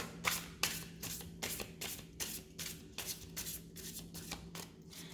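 A deck of cards is shuffled over and over in a quick, steady riffling rhythm, close and fairly quiet above a low background hum, with no talking.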